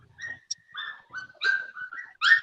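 A three-week-old boerboel puppy whimpers close up in a string of short, high whines and yelps, with brief pauses between them.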